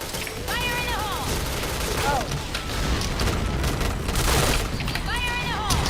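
In the shooter game Point Blank, bursts of rapid gunfire and booming grenade blasts crash together, loud and continuous, with shouted voices and electronic game tones mixed in.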